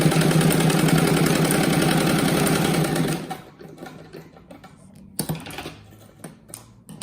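A sewing machine stitches fabric scraps for a patchwork rag rug, running loud and steady for about three seconds, then stopping and leaving quieter handling noises with a few small knocks.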